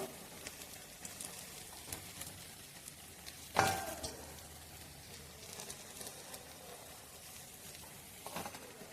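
Cabbage fritters (bora) frying in hot oil give a faint, steady sizzle and crackle, with one sharper clatter partway through and another soft knock near the end.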